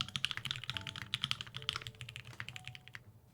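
A mechanical keyboard fitted with GMK Metaverse keycaps typed on quickly, a dense patter of close clicky keystrokes over a faint low hum, with no talking.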